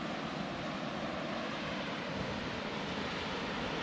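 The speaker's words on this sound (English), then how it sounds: "Listen to the sound of the waves." Sea waves wash on the shore at low tide at Fairlight Glen near Hastings, a steady, even hiss and roar of surf with no breaks or voices.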